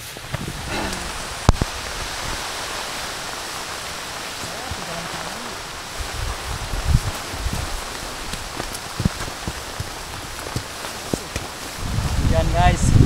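Steady, dense heavy rain hisses throughout on Mount Malabar, with scattered splashes and knocks; a voice speaks briefly near the start and the end.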